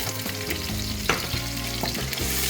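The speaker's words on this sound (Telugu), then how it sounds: "మిర్చి వేసుకొని కొంచెం ఫ్రై చేసుకోండి." Chopped green chilies frying in hot oil for chicken biryani, giving a steady, close sizzle that runs throughout with a few light stirring clicks and no voices.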